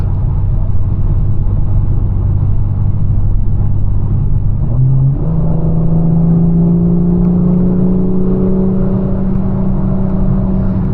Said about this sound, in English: I think the M4's S58 is talking, so let's just enjoy the drive.